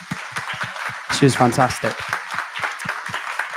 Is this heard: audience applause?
yes